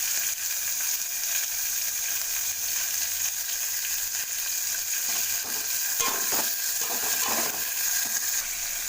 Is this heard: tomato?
yes